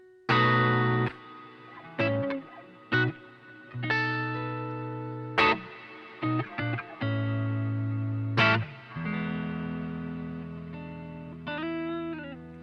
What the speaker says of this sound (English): my guitar, even though the reverb is really wet, cuts through like a dream